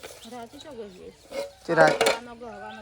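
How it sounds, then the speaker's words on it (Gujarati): Pots and utensils are scrubbed and knocked together by hand during household dishwashing, with a short burst of metallic clatter mid-way while voices talk around it. "સંગીતા ભાભી તો વાસણ ઘસવા માટે આવી ગયો"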